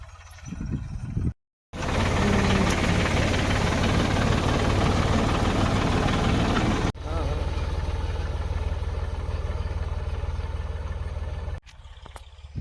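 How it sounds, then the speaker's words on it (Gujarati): A tractor engine drones steadily and loud at close range while sowing wheat in a field, broken by a brief cutoff early and a shift in tone partway, running as a continuous mechanical rumble with no talking. "આ આપણા દીનાભાઈ ટ્રેક્ટર રાખે છે"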